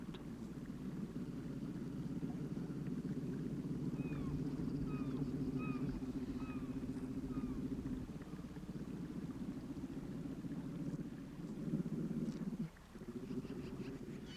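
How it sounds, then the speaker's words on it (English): Nursing bear cubs purr softly and rapidly, a rumbling drone continuing at low volume, with faint chirps and bird calls in the background. "While nursing, cubs often make this purring sound."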